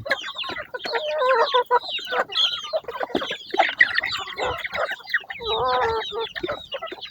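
A flock of native chickens clucks busily and continuously during feeding, overlapping calls close by, with scattered louder squawks throughout.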